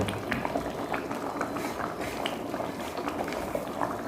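Crab curry bubbles and simmers steadily in a pot on the stove, a continuous close, even boiling texture with small popping bursts throughout and no talking.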